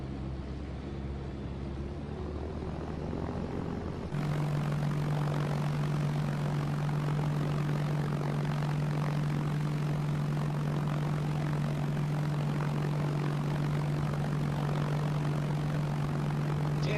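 A propeller aircraft drones steadily in the Arma 3 video game, a loud, constant engine hum that jumps in level partway through and then holds unbroken, with no talk.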